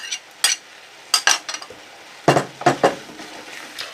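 Ginger being stirred into cucumber jam as it cooks, giving several separate scraping and clinking strokes of a utensil against the pot, close and fairly loud, with quiet gaps between them.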